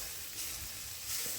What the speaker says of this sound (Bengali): পেঁয়াজটা যখন ভাজা ভাজা হয়ে যাবে তখন তার মধ্যে বেটে রাখা